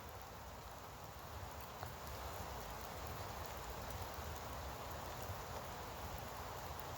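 Drizzling rain patters steadily and close by, a soft continuous hiss with faint drops throughout, during outdoor fire making with green willow at Sitåjaure.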